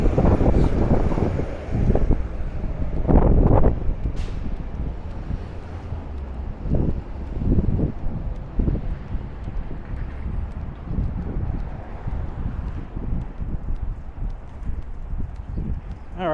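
Gusty wind outdoors on Cropsey Avenue in Brooklyn, buffeting the microphone in uneven low rumbling bursts that rise and fall throughout, with street ambience around it.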